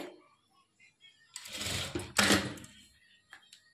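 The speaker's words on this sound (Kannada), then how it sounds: "ಎಲ್ಲ ಫ್ರಿಲ್ಸು ಈಕ್ವಲ್ ಆಗಿರೋ ಥರ ಇಟ್ಕೊಂಡು ಸ್ಟಿಚ್ ಮಾಡ್ಕೊಳ್ಳಿ." A sewing machine stitches frills onto a blouse lining in two short, loud, whirring bursts separated by a brief pause, with faint clicks of handling the fabric afterward.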